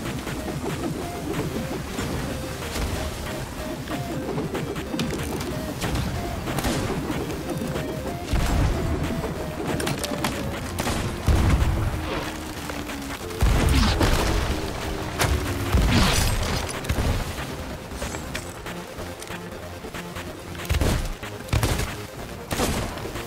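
Cannon fire from an enemy ship in the pirate game Sea of Thieves, with repeated booms, crashes and impacts scattered over a continuous sea-and-ship ambience, some hits loud and close, no talking.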